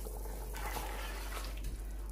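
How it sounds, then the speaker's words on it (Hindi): Water comes to a boil in a cooking pot, giving a soft, continuous bubbling rush with faint gurgles, heard close but quiet and alone. "ये चावलों को सॉरी पानी को आ गया बॉयल।"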